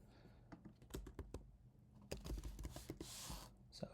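Typing on a computer keyboard, with quick uneven bursts of close keystroke clicks and a few louder key taps, and no talking.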